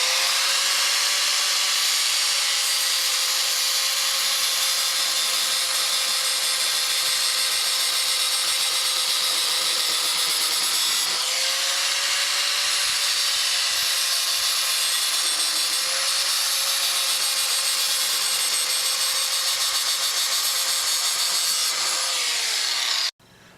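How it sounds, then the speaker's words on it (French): A steel angle grinder cutting a plastic queen excluder grid gives a steady, loud, high-pitched whine with a gritty rasp, running close and continuously for over twenty seconds with a slight shift in pitch partway through, then cutting off abruptly. "Moi j'utilise une meuleuse acier, ça fera très bien l'affaire."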